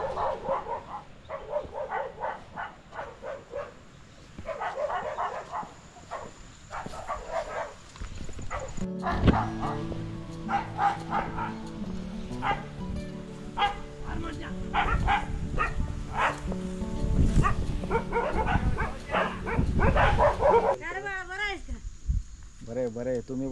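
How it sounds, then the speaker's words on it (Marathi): Several dogs at a grass-thatched house deep in a dense forest village bark in repeated bursts, close by, while people talk over them throughout. "कुत्र्यांना माझ्या येण्याची चाहूल लागली. भुंकायला सुरुवात केली"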